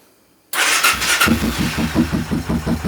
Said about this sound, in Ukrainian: Мотоцикл заглушений, оберти нульові. Я заводжу